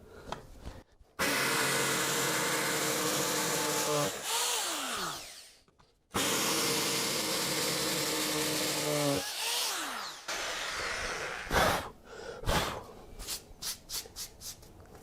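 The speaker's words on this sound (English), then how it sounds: "So there's our 3 pilot holes drilled." Power drill boring pilot holes into a garage floor for a ground anchor: two long, loud, steady grinding runs of several seconds each, separated by a pause, then shorter bursts and stops near the end.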